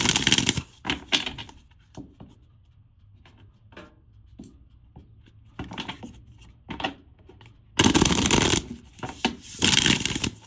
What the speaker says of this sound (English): I'm going to pull one more card